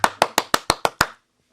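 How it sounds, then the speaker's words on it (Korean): Seven sharp hand claps in an even, quick rhythm, loud and close, ending abruptly in silence, given as a lead-in before a drinking song with guitar. "자, 박수를 쳐드리겠습니다."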